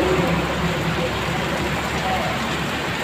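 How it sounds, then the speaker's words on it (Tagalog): Steady rain patters densely on surfaces, a constant hiss close by with no pauses and no talking. "Hindi na malakas yung ulan, uwi na kami doon."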